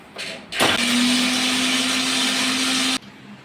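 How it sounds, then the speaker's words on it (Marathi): A kitchen mixer grinder whirs steadily as it grinds garlic into a fine paste for a raw mango pickle, a loud continuous motor hum that starts abruptly and stops cleanly after about two and a half seconds. "लसूण बारीक करून घ्यायचा आहे आपल्याला, तोही मिक्सरमध्ये बारीक पावडर पेस्ट काढून घ्यायची आहे त्याची"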